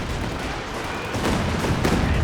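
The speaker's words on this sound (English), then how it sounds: "He's got the Katyusha barrage coming down" A Katyusha rocket barrage in the strategy game Company of Heroes 2: a dense, continuous roar of rapid launches and impacts that grows louder partway through, with no talking.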